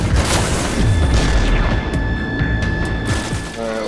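Rapid gunfire and heavy booming explosions crash together in the sci-fi shooter Destiny during a Winter's Run strike, loud and dense over a few seconds.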